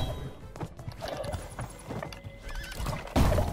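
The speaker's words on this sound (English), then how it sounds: "Horse." In the video game Lego Brawls, a horse gives a clear whinny over the sound of its hooves clip-clopping, mixed into busy gameplay noise that ends in a louder thump.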